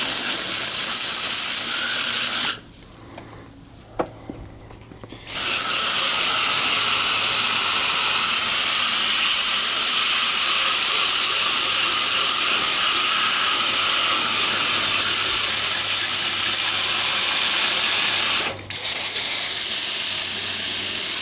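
A water spray hoses dirt out of a single-coil home air-conditioning unit. It makes a loud, steady, close hiss that cuts out for a few seconds early on and drops again briefly near the end.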